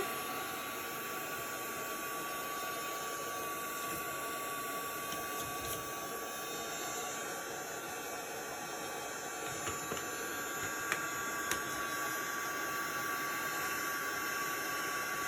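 A heat gun drying paint on a painted wood sign, producing a steady, even blowing hiss with a faint motor hum throughout, constant and unbroken, with a couple of tiny clicks.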